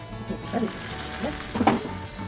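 Tempering of garlic, onion, curry leaves and green chillies sizzling in hot oil for methi dal, a soft crackling fry with a few brief stirring sounds, fairly quiet and close.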